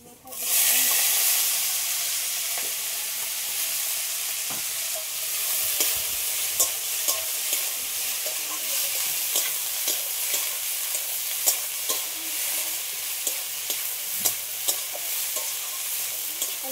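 Shrimp and banana flower stirred in a kadai, a steady sizzle of frying with repeated light clicks and scrapes of a spatula against the pan, close and continuous throughout.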